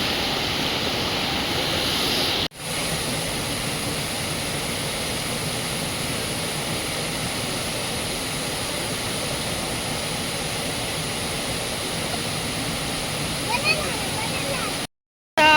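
A monsoon waterfall in a flower valley roars as a dense, constant rush of water that fills the scene, briefly cut off twice, with faint voices beneath the noise.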